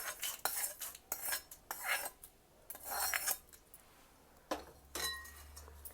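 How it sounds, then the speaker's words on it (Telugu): Tempering being stirred into pulihora rice with a metal spoon against a vessel, repeated clinks and scraping strokes in irregular bursts, close and fairly quiet, without talk. "ఇప్పుడు ఈ పోపు కూడా వేసేసి కలిపేద్దాము"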